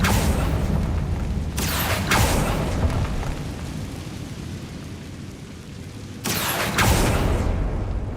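Confringo fire-spell explosions go off in the video game Hogwarts Legacy. Two sharp blasts stand out over a heavy, continuous rumbling roar, with no talking.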